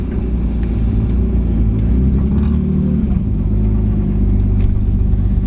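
A car engine runs steadily while driving, its gearbox overfilled with oil and struggling to shift, giving a loud, constant low rumble close by with faint mechanical ticks and no talk.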